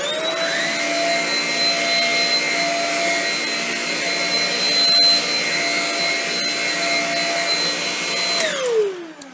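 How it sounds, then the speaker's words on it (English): A Shark Rocket vacuum cleaner runs steadily for about nine seconds, a loud, close motor whine with high tonal harmonics, then winds down at the very end. No one speaks. "Now, I'm also going to do this with the vacuum turned on."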